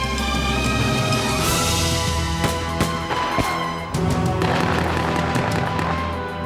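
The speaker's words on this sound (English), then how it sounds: "With automatic gunfire blazing" Rapid bursts of gunfire crackle continuously over a dense, roaring background, sharp cracks piling up loud and close throughout.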